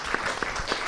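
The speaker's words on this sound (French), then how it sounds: "on peut applaudir son intervention" Soft applause from an audience at a public talk on agriculture and solar energy, a brief, fairly faint patter of clapping with a few sharper claps standing out.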